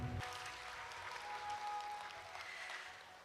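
Audience applause fills a hall at the opening ceremony of the 7th World Humanities Forum, a steady broadband clatter of many hands that holds for about three seconds and then slowly tapers off.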